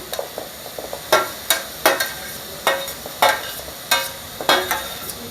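Capsicum being stir-fried in a pan for fried rice, with sharp, regular spatula scrapes and clanks about every half second over a low sizzle, close up and without talk.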